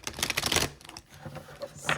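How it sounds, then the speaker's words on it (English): A tarot card deck is shuffled close up, giving rapid, crisp riffling clicks in bursts with brief pauses between them and no talk. "So I'm sorry for the long shuffle. I just really like to shuffle."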